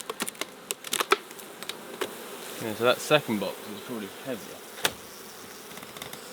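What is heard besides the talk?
honeybees buzzing around open beehive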